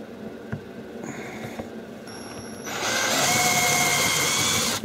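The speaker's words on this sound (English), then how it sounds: "You see the head spins when it's been drilled through." A power drill bores out the rivets on an ice cream van amplifier case. After a few clicks and taps it starts up and keeps a steady, fairly loud whir to the end.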